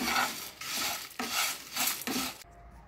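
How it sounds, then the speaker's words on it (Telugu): Curry leaves, coriander and fenugreek stirred and fried in a pan, giving bursts of scraping, rustling sizzle in four strokes before a quiet stop. "మనం ముందుగా ఫ్రై చేసి పెట్టుకున్న కరివేపాకు, కొత్తిమీరను కూడా వేసేయాలి ఇందులో. వీటిని కాస్త ఫ్రై చేయాలండి."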